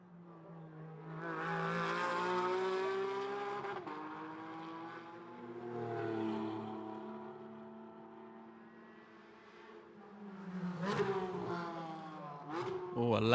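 GT race cars in qualifying at Vila Real street circuit, engines droning with rising and falling pitch as cars pass, louder sweeps near the end, a commentator talking over the sound throughout.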